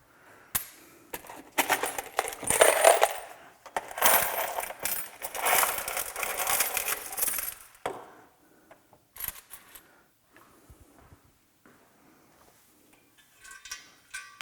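Small black metal washers are sifted by hand during a Porsche 991 GT3 exhaust header install, clinking and jingling in dense bursts for several seconds before dropping to a few sparse, quieter clicks.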